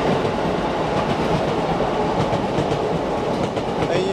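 A train near Miyashita Park in Tokyo rolls past close by, giving a dense, steady rumble with rhythmic clickety-clack from the wheels on the rails.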